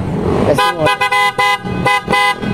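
PIAA car horns fitted to a Mitsubishi Xpander Cross blare in a rapid series of about six loud, close, bright honks of varying length, with short gaps and no talking.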